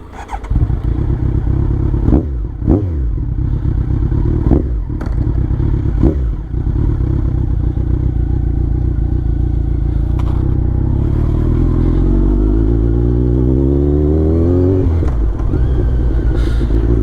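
A Kawasaki Ninja 1000 motorcycle idles loudly and close, with a few sharp clunks and clicks, then revs up and pulls away, its engine note climbing steadily through the gears toward the end.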